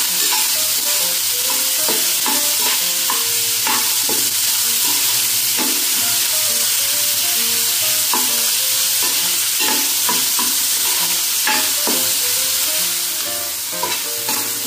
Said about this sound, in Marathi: हा कांदा आपण छान शिजवून घेणार आहोत